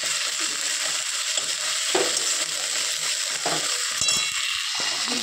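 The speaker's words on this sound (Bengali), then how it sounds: "এবার হালকা হালকা নেড়ে নেবো" Cumin and fennel spice mix being stirred in a frying pan: a steady, close sizzle under occasional scraping strokes and a small metallic clink near the end.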